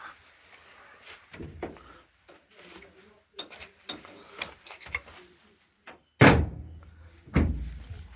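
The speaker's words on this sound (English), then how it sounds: "I'll close the door." After some soft clicks and rustling, a car door shuts with a solid thud, followed by a second bang.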